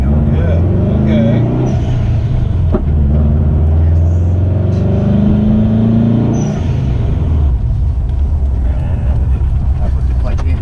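A manual-transmission car pulls away in first gear during a driving lesson, its engine a steady loud drone close by, with an instructor talking over it.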